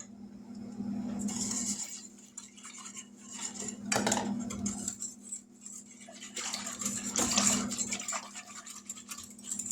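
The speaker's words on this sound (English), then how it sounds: "Give this a real good stir because we want that cornstarch stirred in and not clumped up." A spoon clinks and scrapes in a pot as cornstarch is stirred into coconut cream pie filling, in repeated close scraping strokes over a low steady hum.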